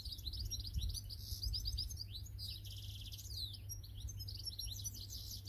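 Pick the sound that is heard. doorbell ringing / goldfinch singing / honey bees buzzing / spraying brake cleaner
goldfinch singing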